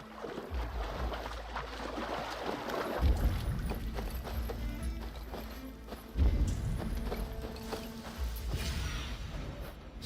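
Horse hooves plod in Assassin's Creed Valhalla, a slow, tired clip-clop under a steady low ambient rumble with faint creaks of tack.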